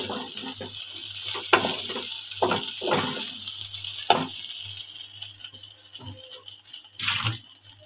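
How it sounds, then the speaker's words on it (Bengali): Rice for Bangladeshi-style egg pulao fries in a pan with a steady sizzle, broken by repeated scraping and stirring clatters from a spatula against the pan. "আমার চালটা খুব সুন্দরভাবে ভাজা ভাজা হয়ে গেছে।"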